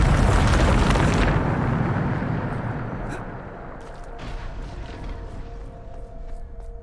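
A Bombarda explosion spell in Hogwarts Legacy bursts loudly with a deep, rumbling blast. It decays over several seconds into a lingering rumble with scattered small crackles.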